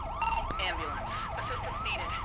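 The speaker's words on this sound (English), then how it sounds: "Ambulance." A wailing ambulance siren in the video game GTA 5, police mod gameplay, sweeping up and down in a steady repeating cycle, loud and close over a low rumble of traffic.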